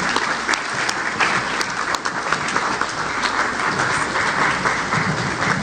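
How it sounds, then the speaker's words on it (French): An audience gives dense, sustained applause in welcome of Haiti's Prime Minister at a CARICOM delegation event, a loud continuous wash of clapping from a large room. "le Dr Jacques-Guy Lafontaine, sous vos applaudissements, s'il vous plaît."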